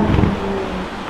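A Porsche 911 R drives past on a street in Monaco, its engine note rising briefly and fairly loud, then fading within about a second, with no talking over it.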